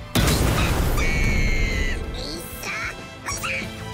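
Skull explosion attack in One Piece Odyssey, a loud booming blast followed by ringing, tonal electronic effects and sharp crackling bursts, with quacking-like synthetic tones layered over a sustained rumble.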